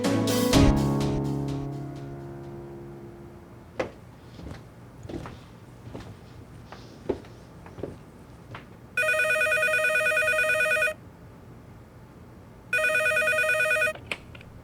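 Two bursts of an electronic telephone ring, each lasting about two seconds, following a loud clatter and some scattered knocks and handling sounds.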